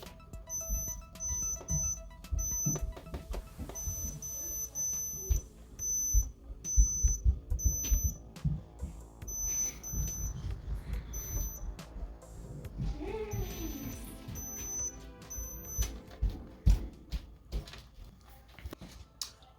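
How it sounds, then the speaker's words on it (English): A multimeter set to continuity gives high, thin electronic beeps as its probes touch contacts on a refrigerator's starter and dial connection, sounding in short bursts and longer tones among soft handling clicks and thumps. "I got this multimeter on continuous, and see the connection when I touch both those"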